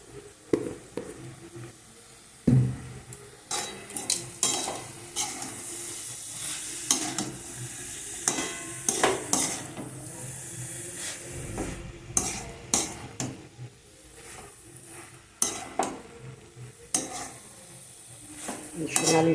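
A spoon stirs and scrapes through cauliflower frying with eggs and peas in a pan, close, with a steady sizzle and irregular clanks of utensil on metal, no voices.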